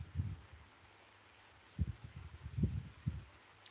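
Computer mouse clicking in a quiet room while working in a data analysis program's query editor: several soft, low clicks spaced irregularly over a few seconds, fairly close and faint, with no talking.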